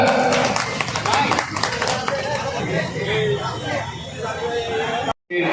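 Crowd applause at an outdoor Rakhi Bandhan festival at a bus stand, dense steady clapping mixed with crowd chatter and voices, continuing for several seconds before cutting off abruptly near the end.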